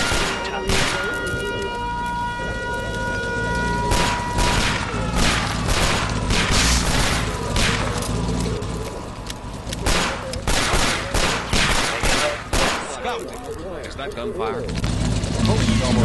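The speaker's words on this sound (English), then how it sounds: "I hear shots. Shots fired." Rapid bursts of gunfire in the video game Signal Ops crackle loudly in repeated volleys, with a voice talking over the shooting.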